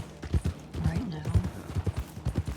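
Horse hooves clip-clopping in the Red Dead Redemption WildRP game, a steady near rhythm of hoofbeats with a short whinny-like tone in the middle, under faint talk.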